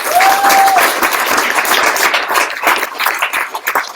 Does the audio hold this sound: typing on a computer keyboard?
no